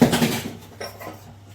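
Cooking utensils are washed in hot water in a home kitchen, with a short clatter of metal pots and cutlery knocking together up close, then fading to quieter handling.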